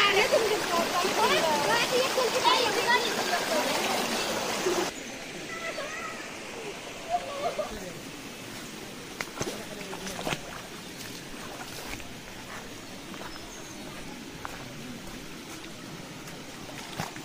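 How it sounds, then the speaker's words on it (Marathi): Forest waterfall in dense jungle near Mul, Chandrapur, running again after the monsoon rains; a steady rush of water sits under loud talking at first, then continues more quietly with scattered small knocks. "आमचा धबधबा आज नित्यनेमाने सुरू झाला आहे"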